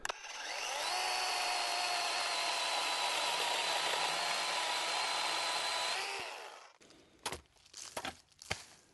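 A saw cuts a notch into a poison ivy vine on a tree, a loud steady buzzing run lasting about six seconds, then winding down into scattered faint rustles and knocks.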